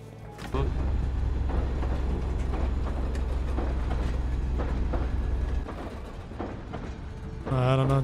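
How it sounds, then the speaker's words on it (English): A train in the Rust video game rumbles and clatters heavily up close, with rhythmic clacks over a low engine drone that eases off midway, and voices talk intermittently over it. "There's already a train here."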